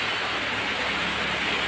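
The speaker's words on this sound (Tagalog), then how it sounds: "Lakas ng ulan." Heavy rain pouring down steadily in bad weather, a dense, constant hiss of falling water with no voices.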